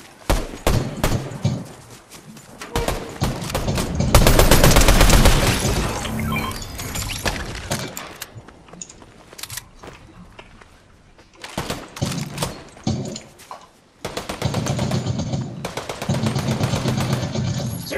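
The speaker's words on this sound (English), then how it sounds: "I wasted so much AR ammo just trying" Assault rifle gunfire in the Fortnite video game, bursts of automatic fire with sharp shatter and crash effects, loud and dense, pausing briefly between volleys.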